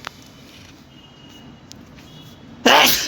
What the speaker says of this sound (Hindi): सॉरी मुझे छींक आ गई थी